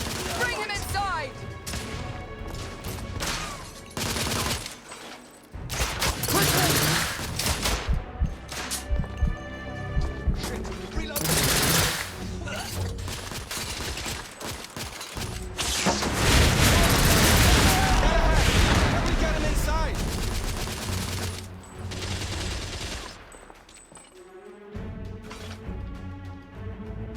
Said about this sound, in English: Igraine, lay down suppressive fire!